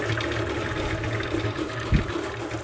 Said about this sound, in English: I'll just give my hands a little rinse too